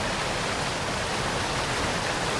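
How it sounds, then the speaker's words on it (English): A waterfall in the fantasy video game Stones of Harlath gives a steady, even rushing roar, a dense hiss with no breaks, alone with no speech. "I guess it's just the graphic effect of the waterfall"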